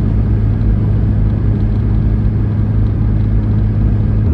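Steady, loud engine drone and road rumble from an LS3 V8-swapped Saturn Sky cruising on the highway at about 70 mph, a continuous low hum with no speech.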